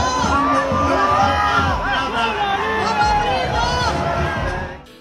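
A large crowd gathered outside Federal Police headquarters, with loud, dense cheering, shouting and babble that stays up close and steady throughout before easing off at the very end.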